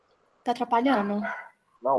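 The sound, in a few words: dog barking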